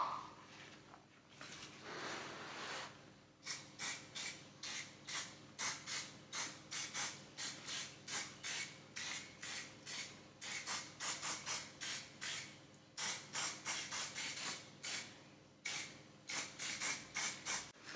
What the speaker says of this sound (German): Luftfilteröl. Das tragen wir jetzt ein bisschen auf.